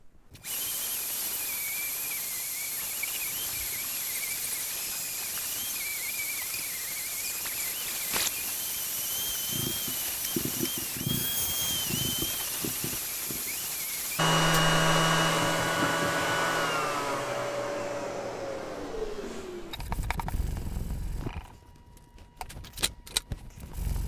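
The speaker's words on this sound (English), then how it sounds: "I'm going to be using the orbital sander" An orbital sander works over a shaped wooden back leg of a dining chair, a steady close whirring hiss that changes tone midway and then winds down, followed by a few handling knocks.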